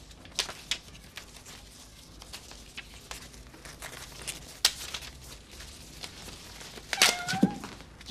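A cat in a garden setting gives a short meow near the end, set against scattered crinkling rustles, clicks and light knocks in a quiet background, fairly close and with nobody speaking.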